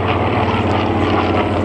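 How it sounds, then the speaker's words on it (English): Propeller airplanes, including a bomber with its bomb bay door open, fly at the Magic Valley Air Show, giving off a loud, steady droning engine roar with a throbbing beat and no speech. "Get a chance to look at these airplanes when they land."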